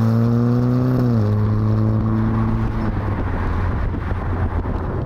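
A Ferrari Roma accelerates hard for an overtake, its engine note climbing steadily in pitch, then dipping briefly at a gear change before pulling on, loud and close under rushing road and wind noise.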